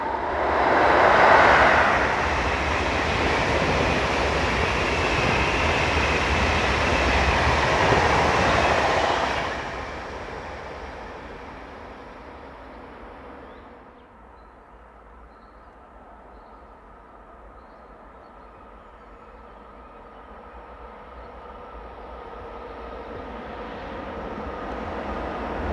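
Swiss Class 460 electric locomotives and trains pass at speed: a loud, close rushing roar fills the first ten seconds, then fades to a quieter rumble as another train approaches and grows louder again toward the end.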